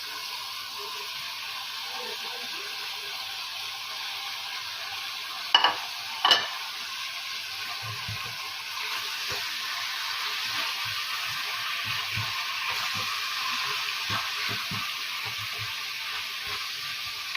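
Chicken frying in a pan with onion, garlic and ginger, a steady bright sizzle running throughout, with two sharp clinks early on and soft stirring thumps and scrapes underneath.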